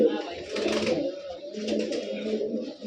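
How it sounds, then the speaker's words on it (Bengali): Kaldom pigeons coo softly in a loft, low murmuring calls repeating in a steady, close rhythm against faint background noise, with no talk over them. "এই যে দেখেন তিন পেয়ার কালদম কবুতর"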